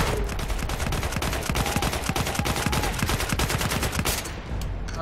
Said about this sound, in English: I'm shooting right at him!